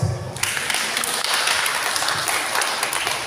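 Dense, steady applause from a congregation at a Sunday church service, a broad wash of clapping that fills the whole stretch at a consistent level.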